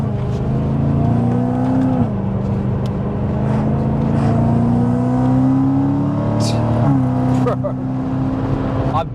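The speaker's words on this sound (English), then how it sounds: "Listen to those downshifts," Supercharged 666 hp BMW M3 Touring with a loud, continuous exhaust drone that steps in pitch through downshifts, with blips and crackles late on, while people talk over it.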